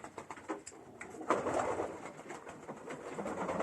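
Racing pigeons in a loft give low, repeated coos and murmurs that rise and fall, fairly close, with a busy flock hum behind and no speech.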